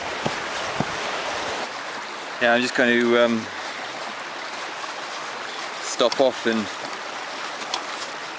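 A Dartmoor river near Lints Tor flows with a steady broadband rush throughout, with someone speaking briefly over it twice.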